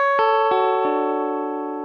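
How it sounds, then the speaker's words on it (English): Clean electric guitar riff played through an amp with light reverb: three picked notes in quick succession, each left ringing together as a sustained, slowly decaying chord with no talk. "here's the verse riff on a regular guitar sound, just through an amp with a bit of reverb"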